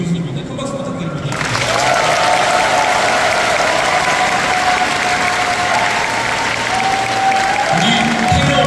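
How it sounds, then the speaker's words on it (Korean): Sustained audience applause at an outdoor autumn concert in Cheongna International City, filling the space steadily after a soprano is introduced, with a faint musical tone and some background voices underneath. "큰 박수 부탁드립니다."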